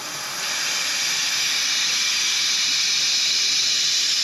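Compressed air hisses steadily from a leaking bottom valve on an F-4 Phantom jet, a loud, constant broadband rush that swells in over the first half second and holds unbroken.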